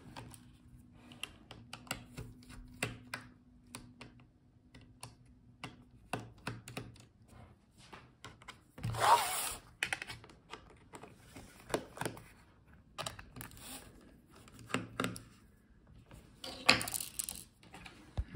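Screws being removed from the bottom case of an HP Omen Transcend 14 laptop: faint, scattered small clicks and ticks, with a few louder handling taps and scrapes close by in a quiet room.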